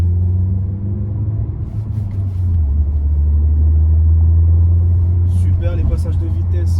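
Ford Focus III Titanium hatchback with a 1.6 engine of 182 horsepower accelerating on a straight road, a steady in-cabin engine drone that deepens and strengthens as it pulls, with someone talking over it.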